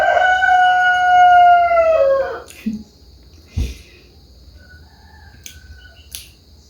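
A single rooster crow, long and clear, fades out into near silence broken by a few faint clicks and taps.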